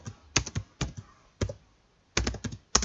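Computer keyboard typing a folder name, a handful of close, crisp keystrokes in short clusters separated by brief pauses.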